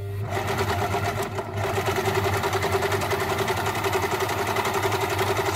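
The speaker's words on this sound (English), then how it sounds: "Just sew a little bit and push your needle down so that when you pull, you're ready." A sewing machine stitches elastic onto fabric for a homemade Valentine outfit, running at a steady, fast, even rhythm throughout, close and fairly loud, with only a brief slowdown early on.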